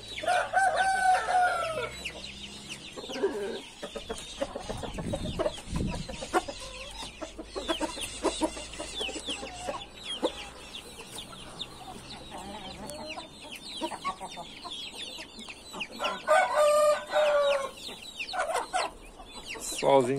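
A flock of chickens, including a naked neck rooster, clucks and crows nearby. Repeated crows rise over steady clucking and scratchy farmyard bustle, with a voice faintly audible in the background.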